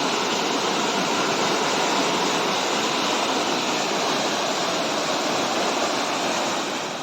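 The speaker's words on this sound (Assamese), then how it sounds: "এয়া চাওক নামঘৰৰ সন্মুখত পানী।" Floodwater rushing past the front of a village prayer hall near a river, a loud, unbroken broadband roar of flowing water that stays constant throughout, with no voices.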